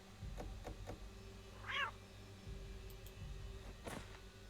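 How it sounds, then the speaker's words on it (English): A cat meows once in a Halloween video game, a short clear mid-range call over a steady low background hum with faint clicks around it. "It did have a cat sound."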